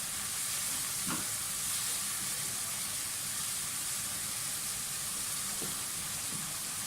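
Gola kebab masala frying in a pan, a continuous close sizzle and hiss, fairly faint, with a couple of light utensil taps.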